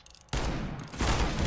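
Revolver gunshots in the shooter CS:GO, two loud blasts in quick succession after a short quiet moment, each one harsh and broadband.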